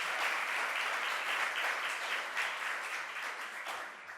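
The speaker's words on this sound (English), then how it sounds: "Let's give him a round of applause." A crowd at Governor Kathy Hochul's cost-of-living announcement breaks into sustained applause for the New York State Assembly leader, an even wash of many hands clapping that holds steady and then slowly fades, heard somewhat distant.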